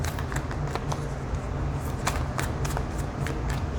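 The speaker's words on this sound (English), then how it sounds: "I'm going to shuffle 3 times." Rapid riffling of a deck of cards, a dense flurry of crisp papery clicks repeated in quick bursts, close up and without talk.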